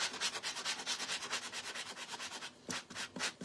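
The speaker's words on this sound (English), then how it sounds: "we're going to sand this down a little bit" Sandpaper rubbing back and forth over a wooden tray, a steady run of close scratchy strokes that briefly pauses and then picks up again with a few louder passes.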